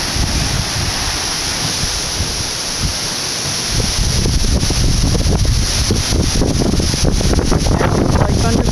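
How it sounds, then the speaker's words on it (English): Heavy wind ahead of approaching thunderstorms blasts across the microphone, a loud continuous roar with rumbling buffeting that grows stronger partway through. "Yeah, it is certainly windy."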